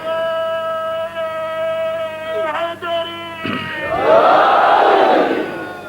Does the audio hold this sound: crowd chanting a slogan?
yes